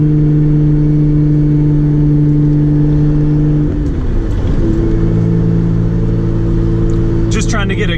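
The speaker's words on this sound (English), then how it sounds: "Trying to get a good couple examples of acceleration" A Nissan R32 GTR with a smooth-shifting transmission pulls hard from inside the cabin, a loud steady engine drone holding, then dipping as it shifts, and building again, with a brief rattle near the end.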